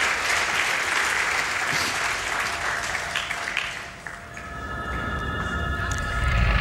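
A large crowd applauds steadily and loudly at the end of a Breath of the Wild 100% speedrun at a charity gaming marathon, with the clapping easing off toward the end.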